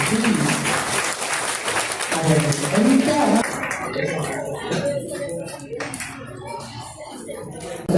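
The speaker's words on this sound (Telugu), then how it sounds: "అందరూ ఒకసారి గట్టిగా క్లాప్ చేయండి" An audience at a World IVF Day celebration applauds loudly and steadily, a dense wash of clapping from many hands that gradually eases, with a voice speaking over it.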